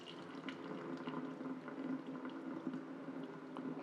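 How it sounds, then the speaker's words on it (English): Water being slowly poured off washed lentils for kitchari, a steady liquid trickle and splash running continuously, close up, with no talking. "So then we pour out the water slowly, like this."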